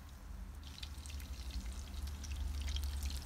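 Soy sauce poured into a cream-based gravy for Swedish meatballs, a soft continuous liquid trickle over a low sizzling pan, close and steady, with no voices.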